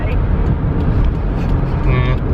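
Road noise fills a moving car's interior, a loud, steady rumble with a faint brake-like hiss near the end.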